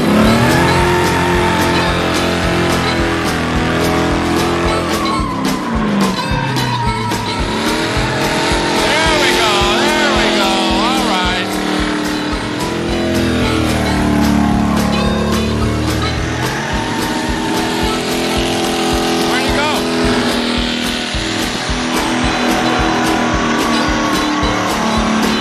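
A diesel El Camino and a Crown Victoria doing smoky burnouts, loud engines revving and roaring with tire squeal over a long continuous stretch, with voices talking at times.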